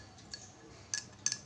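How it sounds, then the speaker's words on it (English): A metal spoon stirs salt into water in a glass, with a few light, bright clinks against the glass standing out over quiet background. "Let me stir it."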